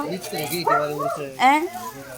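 A dog on a farm gives a few short yips and whimpering bow-wows close by, mixed with people talking.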